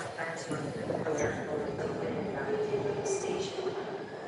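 San Francisco rail transit ride, a continuous low rumble of the moving train with faint rattles and squeaks, steady and moderately quiet, with a voice talking over it.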